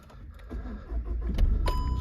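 A Volkswagen Golf 1.6 TDI BlueMotion diesel engine cranks and starts, a low rumble building from near silence into a steady idle, with a chime and faint clicks near the end, heard up close and alone.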